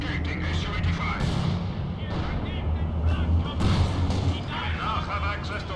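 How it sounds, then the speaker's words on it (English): Artillery and gunfire in the video game Company of Heroes 2 rumble through a steady wash of booms and sharp shots across the whole stretch, with people talking over the battle noise. "I don't know what the hell is shooting."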